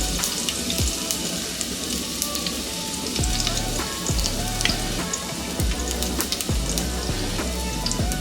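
Crushed garlic cloves, eight to ten of them, sizzle in a pan for an Andhra-style methi dal, giving a steady, dense crackle with scattered pops and low thumps throughout, no voices over it.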